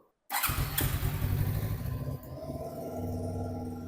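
A twin-cylinder 250cc RKS A250 naked motorcycle engine cranks and catches with a loud burst, then settles into a throbbing idle, close by with no talking.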